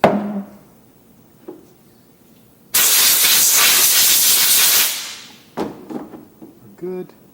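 An aerosol can hisses in one steady burst of about two seconds onto a part from a Honda Lawnboy lawn mower, with quiet handling clicks before and after.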